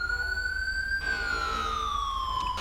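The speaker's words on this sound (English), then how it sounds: "I keep forgetting that turns the siren on." Police car siren in the video game GTA 5, a single clear wailing tone that rises then slowly falls over a low engine rumble, close and steady, no speech.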